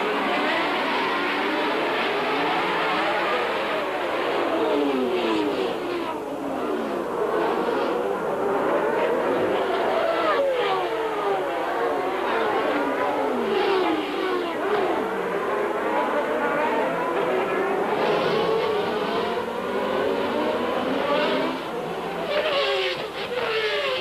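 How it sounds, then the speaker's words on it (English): Formula 1 cars of the 1991 United States Grand Prix, including the Williams cars, scream away from the start toward turn one. A dense, continuous, loud wash of high-revving engines with pitch sweeps as cars pass, and commentary over the top. "As the field clears the start-finish line, the Williams of Patrese and Mansell lighting up the tires as they head into turn one"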